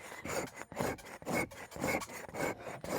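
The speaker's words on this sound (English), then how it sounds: "it's just an axe that's been put on this hide horizontally" A heavy axe held horizontally dry-scrapes an animal hide, making close, rhythmic, coarse rasping strokes, about six in quick succession, with no voices.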